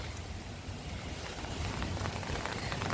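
Steady rain patters on a rooftop, a continuous close hiss that grows slightly louder toward the end.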